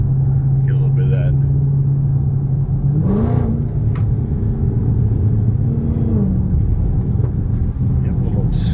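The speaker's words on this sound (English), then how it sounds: "Yep, a little spit in there, a little backfire." Dodge Charger Hellcat engine rumbling and revving steadily on back roads, heard from inside the car, with a rising rev near the middle and brief pops from the exhaust; people talk over it.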